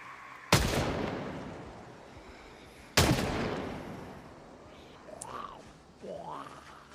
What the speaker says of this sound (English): I am going to practice with guns a little bit.